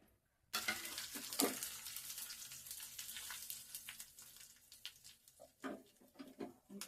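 A tempering of spices fries in hot oil for a cucumber chutney, starting abruptly as a steady crackling sizzle with scattered pops and spatters, close but fairly quiet.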